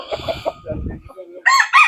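A Kelso gamecock rooster crows nearby in a backyard, with low clucking and scratchy noises before a bright, loud crow near the end.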